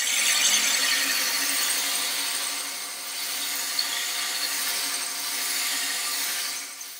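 Sandpaper held against the spinning tips of a threaded rod on a wood lathe, a continuous hissing rub with slight swells and dips in loudness, close by and without speech.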